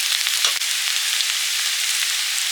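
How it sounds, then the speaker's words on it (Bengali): Carrot and capsicum frying in a pan, a steady, close, even sizzle of hot oil that holds at constant loudness throughout, with no talking. "গাজরটা হালকা ভেজে নিয়েছি এবারে দিচ্ছি ক্যাপসিকাম"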